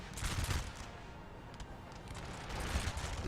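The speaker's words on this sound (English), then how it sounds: "Fully engaged along this line. Infantry firing." Infantry musket volleys crackle in a Napoleon: Total War battle with the Darthmod mod, a dense, continuous rattle of shots along the line, fairly distant and steady with occasional louder bursts, no talk.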